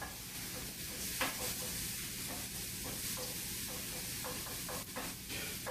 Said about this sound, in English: I'm going to put a little bit garlic. Give it a little time.